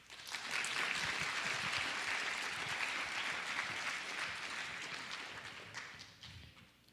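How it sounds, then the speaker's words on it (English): A school performance audience applauds, the dense clapping swelling quickly to a full, steady roar and then thinning gradually toward the end. "Let's give it up one more round of applause."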